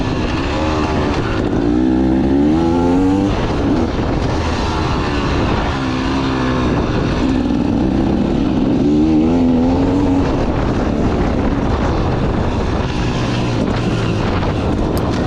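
Dirt bike engines at an enduro race in Texas, loud and continuous, with revs rising and falling in repeated waves as bikes pass close by; no talk.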